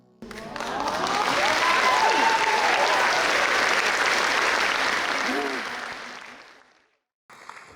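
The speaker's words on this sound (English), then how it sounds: "Please keep that round of applause going" Applause at an anniversary gala swells quickly into a full, loud ovation, holds for several seconds, then tapers and fades out. A voice comes in over the tail end.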